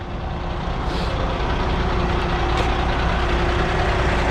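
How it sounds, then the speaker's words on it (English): Truck power take-off engaged to lower a trailer, a steady loud mechanical drone with engine hum and a constant tone running evenly throughout, no talk. "we're gonna start the PTO"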